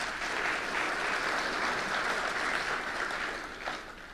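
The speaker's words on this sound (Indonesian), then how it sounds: "Tepuk tangan buat beliau." Indoor audience applause for Indonesia's president at a formal event, with steady crowd clapping that holds an even level for several seconds before easing slightly near the end.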